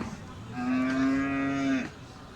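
One long, low moo from a Sahiwal bull at a cattle market, steady and close, rising out of faint background noise and cutting off cleanly.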